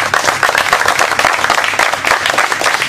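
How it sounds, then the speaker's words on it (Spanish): A crowd claps for Quincho Palma at a community gathering in Acajutla, with loud, close, dense applause and sharp individual claps standing out, continuing steadily without letting up. "Un aplauso para Quincho, que lo apoyamos"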